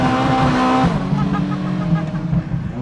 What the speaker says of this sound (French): Et c'est parti, un donuts.